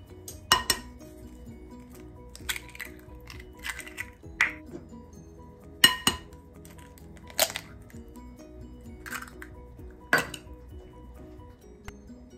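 Four eggs go into cake batter in a mixing bowl: a series of sharp shell cracks and clinks against glass, spaced every second or two over a quiet background.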